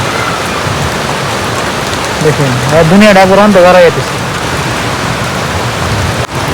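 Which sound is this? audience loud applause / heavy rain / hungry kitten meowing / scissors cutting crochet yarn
heavy rain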